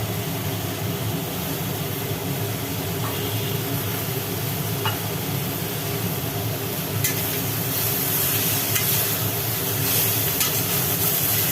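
Poppy seeds dry-roasting in a pan for a Bengali potato and drumstick dish, giving a steady soft sizzling hiss with faint stirring scrapes, close and continuous with no talk.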